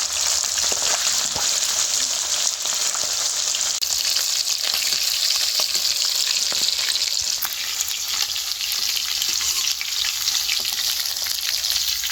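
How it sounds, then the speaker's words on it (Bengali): Chicken pieces frying in oil in a wok produce a loud, dense, unbroken sizzle held close and steady from start to finish, with faint stirring beneath. "সব মাংসগুলো ভেজে নিয়েছি।"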